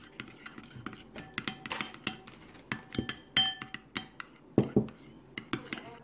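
A utensil stirs conditioner and apple cider vinegar in a container, making a run of light, irregular clinks and taps, close and fairly quiet.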